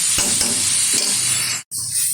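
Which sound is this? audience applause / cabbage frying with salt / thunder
cabbage frying with salt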